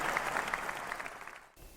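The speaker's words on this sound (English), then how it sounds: "An astounding round of applause for the old gold and black." A crowd claps steadily in dense applause, loud and sustained, then fades and cuts off abruptly near the end.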